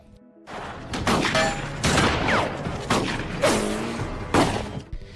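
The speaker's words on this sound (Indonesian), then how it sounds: "tentunya di sini terjadi baku tembak yang seru" Shootout gunfire from a zombie film, heard as repeated loud bursts of shots spaced across the clip over a busy action soundtrack with whoosh-like sweeps, no talking.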